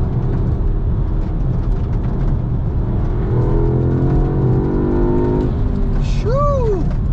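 A turbocharged VW Golf R MK8 or Audi S3 with an aftermarket turbo inlet and intake hose, driven hard from inside the cabin: loud engine drone climbing in pitch through the gears, with a sharp whine near the end.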